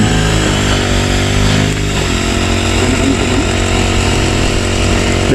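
A grass cutter runs at a steady high-revving drone in a calamansi farm setting, loud and close throughout with a continuous buzzing engine note and no talking.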